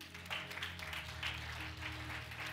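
Congregation at a Sunday worship service claps in a steady rhythm, several distinct group claps at regular intervals over a low sustained organ or keyboard tone.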